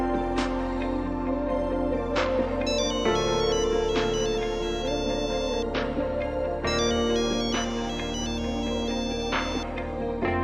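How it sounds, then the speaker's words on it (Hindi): An electronic phone ringtone plays a repeating melodic chime pattern, steady and fairly loud, with no talking. "कभी कभार फोन की रिंग बजती है,"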